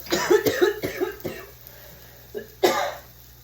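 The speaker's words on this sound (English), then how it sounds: "Nope, this time I inhaled it. It made me cough." A series of harsh coughs from inhaling pepper in quick succession, close up, tapering off, then one more sharp cough after a short pause.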